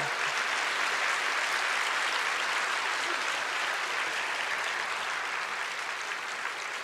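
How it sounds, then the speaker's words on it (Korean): A church congregation at a Sunday worship service claps to welcome a speaker, dense, even applause holding steady for several seconds with no voices. "박수로 환영하겠습니다"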